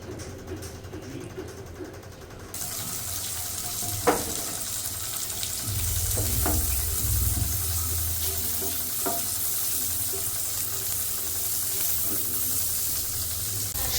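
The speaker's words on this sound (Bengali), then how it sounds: "সুন্দর ক্যারামেলাইজড অনিয়ন হচ্ছে বাটারের মধ্যে" Onion rings fry and caramelize in melted butter for homemade chicken burgers, a steady close sizzle that swells after a few seconds, broken by a few sharp clinks of stirring.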